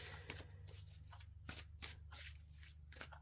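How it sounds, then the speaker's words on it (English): Tarot cards being shuffled by hand in a quiet room, a series of crisp riffling bursts at irregular intervals over a low steady hum, close and fairly soft. "We're going to start with the tarot, and we will just shuffle out our cards as we go"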